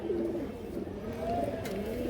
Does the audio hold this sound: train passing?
no